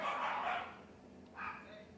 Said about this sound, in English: Our dogs are barking, clearly.